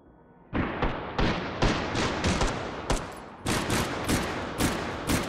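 Light machine gun fire in the VR shooter Hot Dogs, Horseshoes & Hand Grenades: loud, close bursts of rapid shots in an uneven rhythm, with no voice over them.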